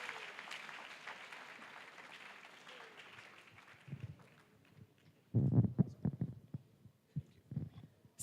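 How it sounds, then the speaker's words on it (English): An audience at a Presbyterian church annual conference thanksgiving service welcomes a speaker with applause: faint scattered clapping at first, then brief louder bursts of clapping and voices in the hall. "let's give her and her round of applause as she comes"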